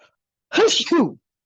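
A single sharp sneeze bursts out after a short silence, close and loud, with a brief two-part burst.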